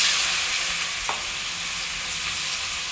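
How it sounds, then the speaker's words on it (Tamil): Chunks of elephant foot yam fry in plenty of hot oil with mustard seeds and dal, producing a steady close sizzle and crackle with a single brief clink of a spoon against the pan. "இப்போ சேனக்கிழங்கு போட்டுக்கலாம்."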